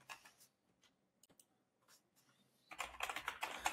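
Typing on a computer keyboard: sparse isolated key taps early, then a denser, louder burst of rapid keystrokes near the end, close and alone with no talk.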